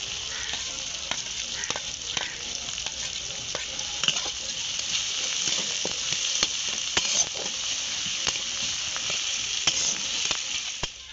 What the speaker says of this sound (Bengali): পেঁয়াজটা হালকা করে ভেজে নিয়েছি, এর মধ্যে দিয়ে দিচ্ছি রসুন আর কাঁচা লঙ্কা।